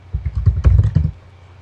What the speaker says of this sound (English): I would do so by typing in my question or my subject here.